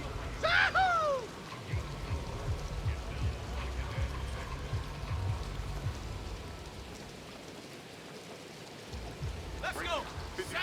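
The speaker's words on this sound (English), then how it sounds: "Steady in this rain." Steady rain falls during a football match in a video game, a soft continuous hiss with a few brighter bursts, running under a commentator's voice.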